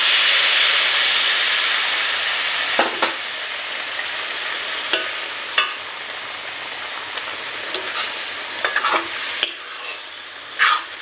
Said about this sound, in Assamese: এতিয়া অলপ গৰম পানীত দি দিলোঁ।